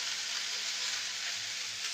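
Eggplant, radish, pumpkin and greens stalks frying in a pan, giving a soft, continuous, even sizzle heard alone and fairly faint.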